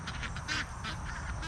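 Several farm ducks quack in a quick, repeated series of nasal calls at moderate distance, with no talk over them.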